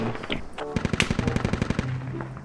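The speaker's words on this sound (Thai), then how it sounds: "ข้างหน้ายิงกัน" Automatic gunfire in the video game Squad rattles off in a rapid burst of about a dozen sharp shots, moderately distant, with brief quieter sounds around it.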